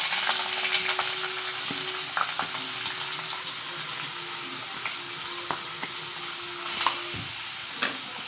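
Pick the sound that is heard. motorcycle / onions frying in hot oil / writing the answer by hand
onions frying in hot oil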